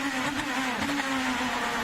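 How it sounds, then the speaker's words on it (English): IndyCar racing engine on a 2011 oval circuit, a steady loud drone with a dip as the driver lifts off the throttle, then the note settling back, close and continuous throughout. "you can hear him lifting out the power too"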